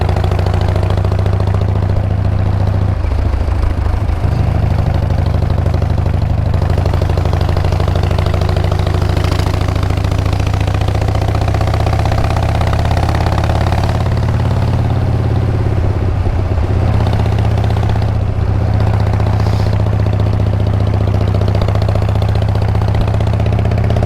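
A Harley-Davidson motorcycle engine drones steadily while riding on curvy roads, a loud, close, continuous low rumble with small shifts in pitch as the throttle changes, accompanied by wind noise and no talking.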